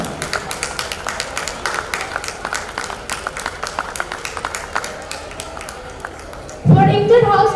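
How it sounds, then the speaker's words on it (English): Audience applause at a school annual day prize distribution ceremony, a steady patter of many hands clapping at moderate loudness, followed near the end by a sudden louder burst of crowd noise. "Round of applause for Vidyanand Ashram."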